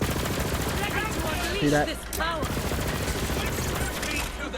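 Rapid SMG bursts rattle on in Borderlands 3, a dense fusillade of quick shots running the whole stretch under a brief spoken aside and other game effects.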